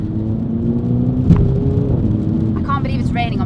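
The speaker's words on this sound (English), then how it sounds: "The exhaust is a standard stock exhaust, and it's really loud" A Mini John Cooper Works with its standard stock exhaust drives on a rainy road, a steady, close engine drone and low rumble with a brief thump partway through.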